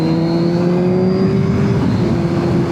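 A Kawasaki Z1000 motorcycle accelerates on an open road, its engine note loud and close with a steady droning tone that climbs slightly in pitch, alone without talk and with wind rush underneath.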